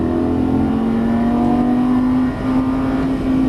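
A Lamborghini Gallardo Superleggera LP570-4 accelerates on a Las Vegas track, its engine holding a loud, steady, close-up drone with a slight dip near the end.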